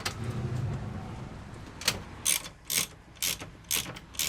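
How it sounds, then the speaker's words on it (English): Ratchet with an Allen key bit tightening the seat base bolts of a VW Crafter swivel seat, a series of about six short clicking ratchet strokes in a regular rhythm, close and clear after a quiet start. "So let's tighten the 4 up."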